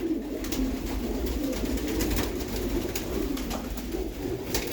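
Pigeons in a pigeon loft coo steadily in a low, throaty murmur, several birds overlapping close by, with soft rustling and flutters underneath.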